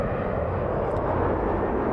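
A JetBlue jet airliner takes off at LAX, its engines giving a loud, steady broadband roar that fills the whole stretch with no break and no talk.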